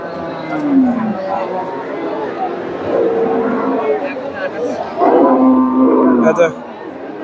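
A Friesian cow moos several times, long drawn-out lowing calls at a busy cattle market in Bogura, Bangladesh, with people talking close by throughout.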